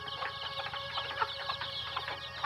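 Native desi chickens cluck softly and repeatedly on a small farm in the morning after being let out, with a steady, moderately distant chorus of clucks and no talk.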